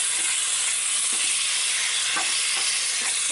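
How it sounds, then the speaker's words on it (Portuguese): Ingredient frying steadily in a pan for a homemade vegetable soup, a continuous broadband sizzle with occasional faint stirring clicks, close and even, no talking. "Então, eu vou fritar ela aqui bastante."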